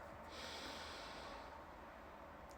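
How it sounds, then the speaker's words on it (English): A slow, soft breath drawn in and released through the nose during a quiet guided meditation, faint and close, with no talking. "Take another deep breath in. Let it out."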